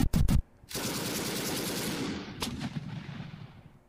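Gunfire strikes a tank in Armoured Commander II: a rapid burst of close, loud shots opens, then a long roaring volley of fire rolls on and fades with scattered sharper cracks, with no talking.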